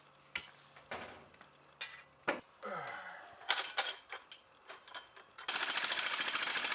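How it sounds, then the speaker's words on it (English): Rented jackhammer breaking through the concrete foundation of an old building while a trench is dug, first scattered clanks and knocks of chunks and the tool, then a loud, close, sustained rapid hammering burst. "That is no ordinary rock that I'm jackhammering through. That is concrete."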